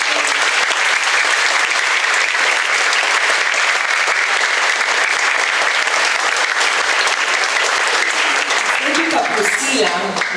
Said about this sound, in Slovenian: prosim en velik aplavz za vse zaposlene